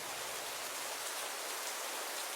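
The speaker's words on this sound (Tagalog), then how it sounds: "hindi pa rin tumila ang ulan" Rain falls steadily over farmland at night, an even, dense hiss that holds without a break from start to finish, with no voices.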